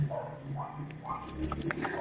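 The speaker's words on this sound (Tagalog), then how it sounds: "Pasensya na sa ingay ng aso kung naririnig nyo okay?" A dog nearby gives short yips and whimpers in uneven bursts, fairly faint, mixed with a little background noise.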